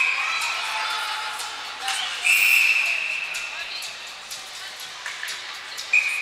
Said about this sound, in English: Brief whistle before we drop the puck.